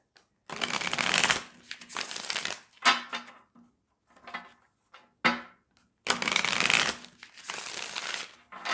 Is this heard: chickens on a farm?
no